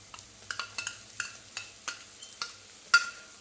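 Fried egg and chicken being stirred into pasta in a pan, a series of short scraping, clattering strokes of a utensil at an irregular rhythm, close and moderately loud with no talking.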